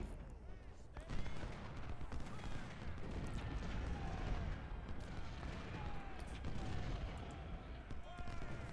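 Cannon and rifle fire rumble continuously through a Civil War battle at Fredericksburg in Ultimate General: Civil War, a dense, steady din of booms and crackling volleys with no pauses.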